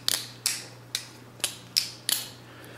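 A balisong butterfly knife is flipped open and shut, giving six sharp metallic clicks at roughly half-second intervals, each with a brief rattle, close and alone.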